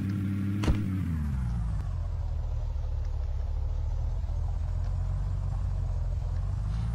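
A car drives along in the video game Unturned, a steady low engine rumble that holds constant throughout, with no talking.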